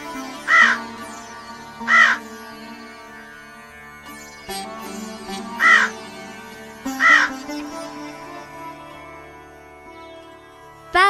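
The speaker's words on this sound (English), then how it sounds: "Crow." Crow cawing, loud harsh calls in pairs repeated several times with pauses between, clear and close, with no talk.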